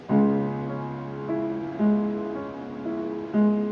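Heavy piano chords of the Moonlight Sonata struck with full force, each loud attack ringing out and sustaining before the next chord lands, four or five in slow succession.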